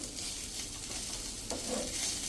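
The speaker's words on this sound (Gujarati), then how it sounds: "તો આ રીતે આપણે 1-2 મિનિટ જ એને તેલમાં રોસ્ટ કરવાની છે, વધારે નથી કરવાની." Green peas roast in oil in a pan over a low flame, giving a soft, steady sizzle with light stirring rustles, quiet and close, with no voices.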